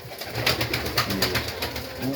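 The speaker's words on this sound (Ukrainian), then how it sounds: "Бомбовий старий голуб" An old pigeon coos in a low, continuous rolling murmur, close and fairly loud, with a few brief higher flutters over it and no talking.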